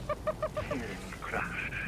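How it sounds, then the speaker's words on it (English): A dodo creature in the video game Ark gives a run of short, evenly spaced honking quacks, fairly close, followed by a brief squawk, over game ambience with faint talk. "That is a bright colored dodo for sure."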